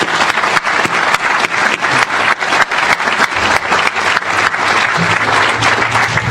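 Loud, close applause from a crowd at a groundbreaking ceremony, with individual claps rising distinctly out of the steady wash of many hands clapping for the full stretch.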